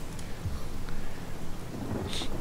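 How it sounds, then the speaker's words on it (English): Rain and thunder in the video game Divinity: Original Sin, a steady broadband wash of rainfall with low rumbling and a brighter hiss late on, continuous and fairly loud with no talk. "Pity rain doesn't get rid of smoke."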